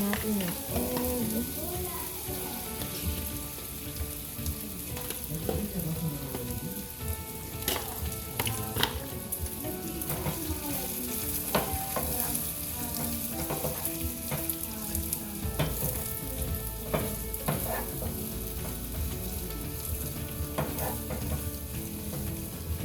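An egg fries in a hot pan with a steady, loud sizzle and crackle that runs throughout, joined by occasional scraping and stirring clicks.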